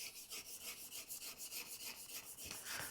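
Carving chisel from Harbor Freight being honed on a 600 grit sharpening plate: steady rhythmic back-and-forth scraping strokes, close and fairly quiet, with no talking.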